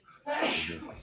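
One sharp, close sneeze with a short intake of breath followed by an explosive burst that trails off.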